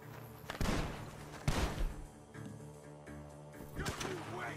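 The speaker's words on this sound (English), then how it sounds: "The gunshots are coming from that barn." Gunfire from a barn in the video game Red Dead Redemption 2, with a few heavy shots and thuds in an outdoor scene, set against a low background bed.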